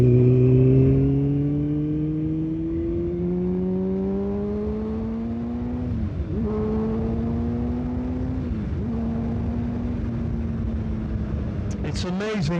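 A 2015 Kawasaki Ninja ZX-6R 636 motorcycle accelerating, its engine tone rising steadily through several gear changes, loud and close. A brief higher whine sounds near the end.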